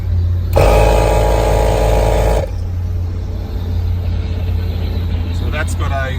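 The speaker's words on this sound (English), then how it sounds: "So in there is our ARB twin compressor" An ARB twin air compressor kicks on in a vehicle, a loud steady high-pitched mechanical whine with a buzzing drone that runs for about two seconds and then cuts off abruptly, leaving quieter background hum.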